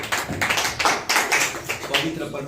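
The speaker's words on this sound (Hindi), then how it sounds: "जोरदार ताली बजाए।" A church congregation claps loudly in unison at a Wednesday service. The sharp, rhythmic claps come in quick regular bursts, close and energetic.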